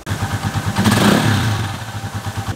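A small AKT NKD125 motorcycle engine runs steadily nearby with a pulsing, throbby idle, swelling briefly in a short rev before settling back to its even chugging rhythm, with no voices.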